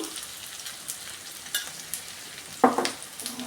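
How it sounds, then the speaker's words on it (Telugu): Cut onions frying in a pan for masala dosa potato stuffing, with a soft, fairly quiet sizzle and a few sharper clinks and stirring scrapes, one louder knock near the end. "రెండు ఉల్లిపాయలు మనం ఇలా కట్ చేసుకున్నాం కదా ఇవి కూడా వేసేసుకొని దోరగా వేయించుకోవాలి"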